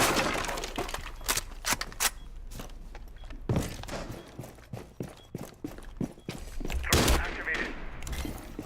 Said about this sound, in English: And Emorin does try to shoot him through the floor.